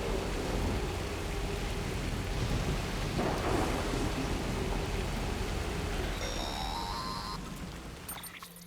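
Heavy rain pours steadily through a thunderstorm in the video game Death Stranding, with a rolling thunder rumble near the middle and a few faint electronic tones toward the end; no one speaks.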